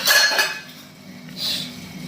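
Metal pots and a few plates clink and clatter while being washed by hand, a busy burst of knocks at the start and a second shorter rattle a little later, with quieter handling between.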